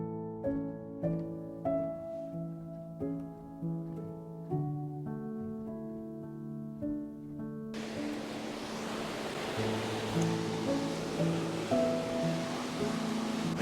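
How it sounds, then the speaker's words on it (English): Ocean waves crash as a loud, rushing wash of surf that swells in about halfway through, replacing a stretch of soft music whose notes continue faintly underneath. "the waves are really crazy today"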